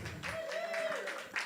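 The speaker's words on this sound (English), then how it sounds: "round of applause" A short burst of clapping from a small crowd at a poetry open mic, brisk and close, with a voice briefly audible in the mix.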